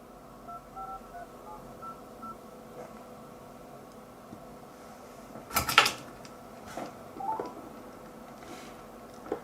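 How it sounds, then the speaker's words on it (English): Dialing tones on an Android phone as a call is placed: short keypad beeps over a faint electrical hum, with a brief cluster of clicks and clatter near the middle. "About to make a phone call."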